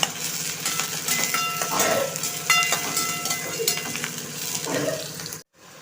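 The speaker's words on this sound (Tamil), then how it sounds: "வெங்காயமும் பச்சை மிளகாவும் சேர்த்து இது நல்லா வந்து பொன்னிறமாக வர அளவுக்கு நம்ம வதக்கிக்கணும்" Onion and green chilli sautéing in a pan, a moderate sizzle with repeated scraping and stirring strokes of a spatula, close up, ending in an abrupt cutoff to silence.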